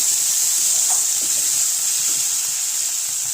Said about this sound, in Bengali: এখন আমি এখানে জল অ্যাড করব।